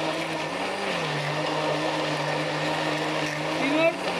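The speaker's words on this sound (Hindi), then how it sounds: "मैदा इसी मशीन में आपने डालना ताकि हल होता जाए" An electric mixing machine whirs steadily while flour is blended into fruit cake batter, a continuous close motor hum with a slight pitch dip early on and a brief louder surge near the end, with no talking.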